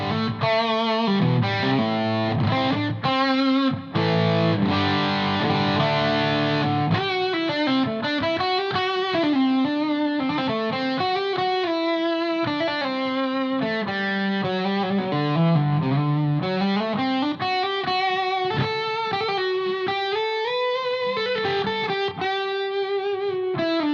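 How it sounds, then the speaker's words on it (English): An electric guitar through a Way Huge overdrive pedal plays a continuous riff with gritty, saturated tone, steady and loud throughout with no voices. "Let's hear the pork loin with the overdrive"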